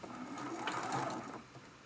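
Sewing machine chain piecing charm-pack fabric for a Dresden Plate quilt block, a short quiet burst of rapid needle clatter that runs for about a second and then eases off.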